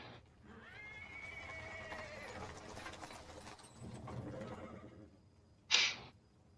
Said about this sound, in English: He is interrupted by the sound of wheels rolling on the paving stones.